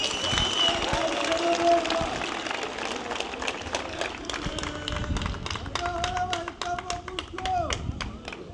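An audience claps at a speech by President Paul Kagame, dense scattered hand claps forming a loud continuous applause with crowd voices and music mixed in, lasting the full stretch.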